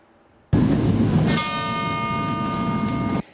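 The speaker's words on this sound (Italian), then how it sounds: "i rintocchi della campana della torre civica" Church bell tolling from the civic tower in Treviso, a single loud, close strike that rings out with a long, sustained, shimmering hum fading slowly.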